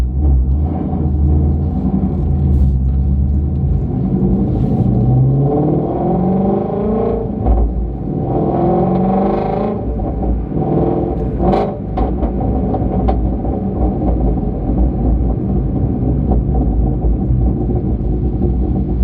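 A Ford Mustang GT350R is driven with a loud, deep engine rumble heard from inside the car, the revs rising and falling through several swells of acceleration, with no talk.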